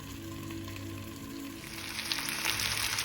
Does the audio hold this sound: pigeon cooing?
no